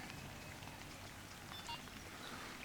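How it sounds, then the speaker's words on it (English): Steady rain patters on a lake at a fishing spot, a faint continuous hiss with no talk. "hopefully this rain eases"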